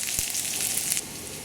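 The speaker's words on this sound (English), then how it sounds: "just to have this garlic cooked until it turns a little bit brown" Garlic sizzles steadily in hot oil in a pan while being browned for adobong bulalo, a close, continuous crackling fry with a brief sharper pop early on and a slight drop in level near the end.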